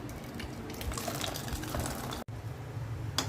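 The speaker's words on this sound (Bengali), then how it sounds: "এখন আমি ঢেলে নিচ্ছি।" Cooked payesh (rice pudding) being poured out, a steady wet gushing and splashing that runs continuously with one brief break near the end; no voices.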